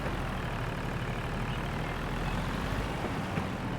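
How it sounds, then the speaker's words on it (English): A gasoline tractor engine in a farming game runs at a steady low rumble, a continuous, even drone with no change in pitch, fairly quiet and alone. "it's a gasoline tractor"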